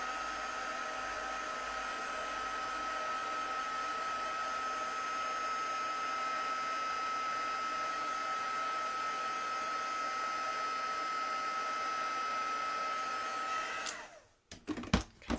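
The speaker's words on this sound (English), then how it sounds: "And then we want our little heat tool." Small heat tool for card stamping blowing hot air, a steady high whine with a constant fan hum held for about fourteen seconds, then switched off with a few handling knocks.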